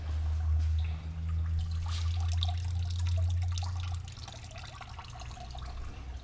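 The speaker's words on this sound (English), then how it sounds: "It's really not draining very fast." Fluid trickling slowly out of a Subaru BRZ / Scion FR-S / Toyota 86 engine during an engine pull, a faint steady drip and splash over a low hum in a garage.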